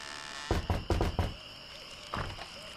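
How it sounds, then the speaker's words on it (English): Several hollow knocks rap on a door in The Secret of Monkey Island, a quick cluster of four or five thuds followed after a pause by two more, under faint game music. "I think I'll knock."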